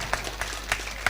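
Audience applause at a Hindi kavi sammelan comedy poetry event, heard as a brief burst of scattered claps with a few sharp hand strikes over a steady crowd murmur.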